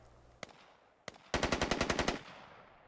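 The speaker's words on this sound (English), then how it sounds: "You should be able to hear that M4" M4 rifle gunfire in a video game: two single distant shots, then a rapid burst of about ten rounds at steady automatic rhythm, fairly faint over background noise.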